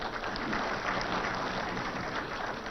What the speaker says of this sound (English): And deserving of applause